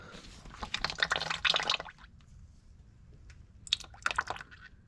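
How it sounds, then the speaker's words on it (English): Transmission fluid draining from the drain plug of a 2004 Ford Explorer during a drain and fill, a close liquid splashing and trickling that comes in two bursts with quieter dripping between, no talk. "If you're just doing drain and fill, let that drain for a little while."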